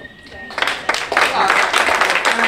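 Audience applause at a town candidates debate in a hall, a moderate wash of clapping that builds and holds for a couple of seconds.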